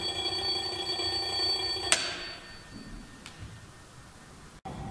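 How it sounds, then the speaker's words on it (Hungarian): An electric bell rings continuously inside a bell jar as air returns, a bright metallic buzz, then cuts off abruptly, leaving a quiet low hum. "Hallható, hogy az eredeti hangon kezd el ismételten szólni a csengő"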